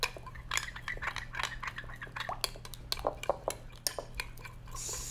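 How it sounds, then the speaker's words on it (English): Maple syrup and sriracha sauce are stirred in a bowl, a quick run of close clinking and scraping of a utensil against the bowl, sharp irregular taps, then a quieter pause. "Give that a quick stir."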